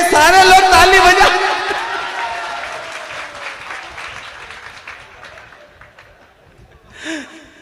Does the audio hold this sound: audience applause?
yes